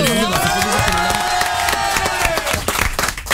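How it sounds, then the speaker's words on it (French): Studio audience on an NRJ radio show applauds and cheers for Léa, the social-media staffer, with loud continuous clapping and whoops filling the room, mixed with a musical jingle. "On va applaudir Léa."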